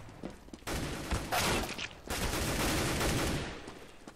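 Gunfire from Counter-Strike on the de_train map: a dense burst of rapid shots followed by more sustained firing, loud and continuous with no voices.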